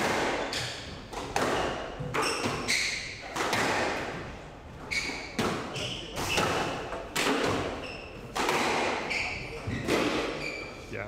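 Squash ball shots in a professional PSA Challenger Tour match, sharp thuds against the walls and racket strikes in a quick irregular rally, with a commentator talking over the play.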